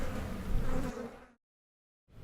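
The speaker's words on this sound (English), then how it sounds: "Is that really a beehive?" Insects buzzing around a beehive, a dense close droning hum that runs steadily for over a second before cutting to silence, then resumes briefly at the end.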